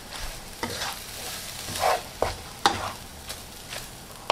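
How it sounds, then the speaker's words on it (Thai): Pad thai noodles stir-fried over egg in a pan, with a steady sizzle broken by several sharp scraping and tossing clicks of the utensil against the pan, close and clear. "พอไข่สุกระดับนี้เราก็เอาผัดไทยลงมากลบนะคะพลิกไปพลิกมาเบาๆค่ะ"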